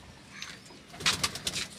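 A teddy pigeon coos in a few soft, close calls, with light chirps and faint background noise between them.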